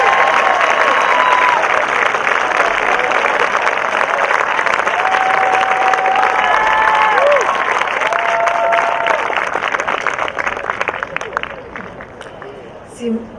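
A large crowd at a high school graduation ceremony claps loudly in sustained applause mixed with scattered cheers and whistles, tapering off toward the end as the hall quiets.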